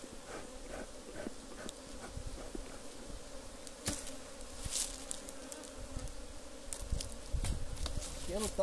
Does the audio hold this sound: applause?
no